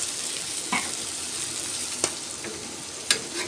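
Fish fries hard in hot oil beside okra in another part of the pan, a steady close sizzle with a few sharp crackles and pops.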